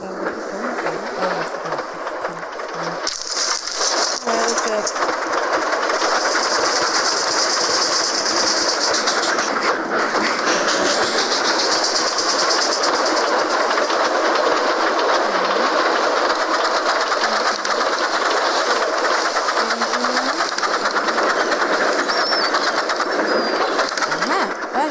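Dual gauge model train engine running along the rails, a steady close rumble and clickety-clack with a faint hiss that keeps going without a break for the whole stretch.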